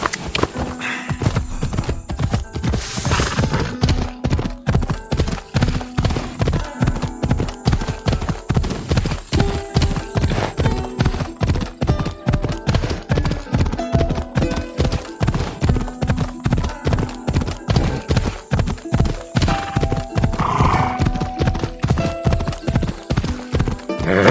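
A horse gallops with a steady, rapid clip-clop of hooves in the video game Assassin's Creed Odyssey, and it neighs now and then. The loud, rhythmic hoofbeats run unbroken for over twenty seconds.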